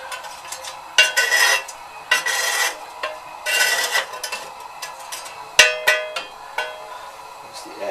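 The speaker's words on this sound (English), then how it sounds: "the plan is to shove the ash back off the fire bricks" Ash being shoved back across the fire bricks lining a stove: a series of scraping, clattering bursts with sharp metallic knocks, close and fairly loud, with no talk.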